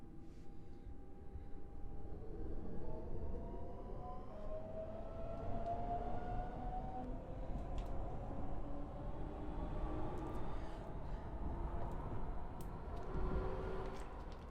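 Train departing in the Train Drive ATS 3 video game, a steady low rumble with a rising, drawn-out whine that swells and slides in pitch as it pulls away, fairly quiet with no talking.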